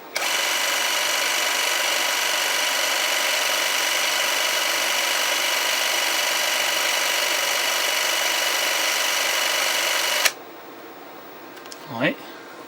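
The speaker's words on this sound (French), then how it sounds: "on met le moteur en route" The motor of a Beaulieu 4008 ZM II Super-8 camera runs as a steady, even whir for about ten seconds, then cuts off abruptly, leaving near silence with a brief faint sound afterward.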